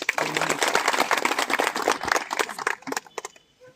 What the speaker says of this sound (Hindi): सभी से आग्रह करता हूं कि उनके लिए एक बार ताली बजा करके